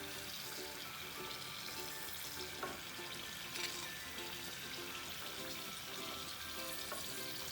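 Semolina (Bombay rava) pakoda fritters bubble and sizzle in oil in a soft, continuous hiss with faint clinks, heard quietly and alone.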